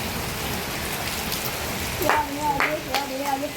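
Heavy rain mixed with hail pours down in a storm, a dense steady hiss of drops striking surfaces, with a person briefly speaking over it toward the end.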